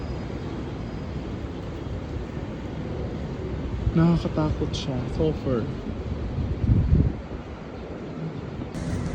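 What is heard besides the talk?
strong typhoon wind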